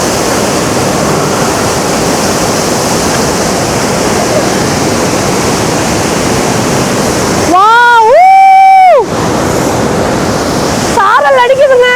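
Ban Gioc waterfall on the Vietnam border roars up close as a loud, dense, continuous wash of rushing water, briefly interrupted by a person's voice twice.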